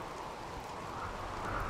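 Steady rain falling in the video game RimWorld, a continuous soft hiss of drops at even level through the whole stretch, with no voices over it.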